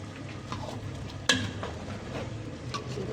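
Water poured into a pan of frying rice and vermicelli for spinach rice sets off a steady sizzle, with one sharp clatter partway through.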